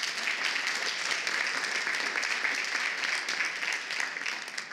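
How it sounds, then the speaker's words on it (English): Steady, even applause from a campus audience at a student fashion show, a continuous wash of many hands clapping at moderate distance throughout. "Let's have a nice round of applause for this important resource."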